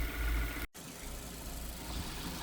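A van engine idles steadily to warm up after valeting, a low, even hum with a brief dropout near 0.7 s and no talking.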